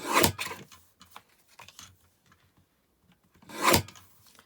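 A paper trimmer slices card down to size in two quick, close rasping strokes, one at the start and one near the end, with faint handling rustles in between.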